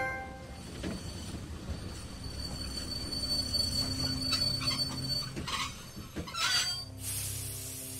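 Train from The Walking Dead game rolls along the tracks with rumbling wheels and a sustained metallic squeal, swelling louder near the end, no talk.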